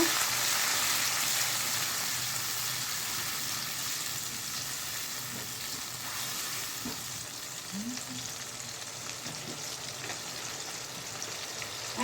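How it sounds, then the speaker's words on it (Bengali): Spice paste with two spoons of garlic paste and a splash of water being fried for a thin country-chicken curry, giving a dense, continuous sizzle that holds steady throughout with faint scraping and no talk. "দুই চামচ রসুন বাটা দিয়ে দিলাম সামান্য একটু জল দিয়ে মশলাটাকে কষিয়ে নেব"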